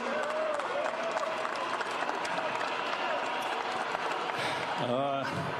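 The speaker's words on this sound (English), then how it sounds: "Normally the applause is much louder, but I can assure you all of Los Angeles is clapping right now." Crowd applause and clapping fill the background at a Los Angeles Lakers celebration after winning Game 5 of the Western Conference Finals against the Denver Nuggets, a steady dense wash running beneath a voice.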